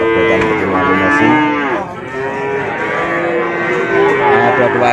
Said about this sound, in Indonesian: depan kita ada pedetan betina Lumasi